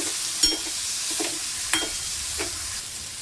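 Eggplant and potato pieces being sautéed in oil for a spicy Vidarbha-style vegetable dish, giving a steady soft sizzle with a few sharp stirring scrapes and clinks.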